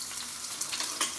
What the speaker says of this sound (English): So I'm gonna saute my onions and my garlic first.